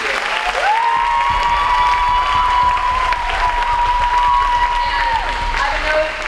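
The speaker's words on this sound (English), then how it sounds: "Let's give them one more round of applause here." An audience at a youth theatre performance about the American Revolution breaks into loud sustained applause with cheering and a long shrill whistle, a dense crowd roar held throughout.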